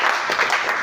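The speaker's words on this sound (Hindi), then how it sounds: "क्या बात है, इनके जोरदार ताली।" A brief burst of audience clapping fills the hall at a talk on intoxication, a dense, fairly close patter of many hands that fades slightly toward the end.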